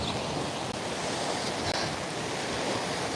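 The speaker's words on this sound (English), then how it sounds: "The waves are pretty big now. I mean, it's lake, it's just a lake. So it is quite big. The wind is strong." Waves lapping on Lisi Lake in Tbilisi, Georgia, with strong wind buffeting the microphone, a dense continuous roar of surf and gusts with no talk.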